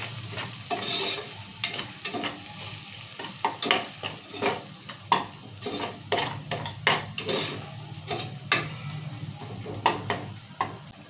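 Tomatoes, oil, turmeric and salt being stirred in a sizzling pan, with a steady run of scraping strokes and clinks of a spoon against the pan, close and loud, with no talking.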